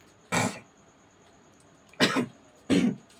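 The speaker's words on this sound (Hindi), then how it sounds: "थोड़ी खांसी हो रही है।" Three short, sharp coughs from a man, one alone and then two close together after a pause, heard near and clear over a quiet background.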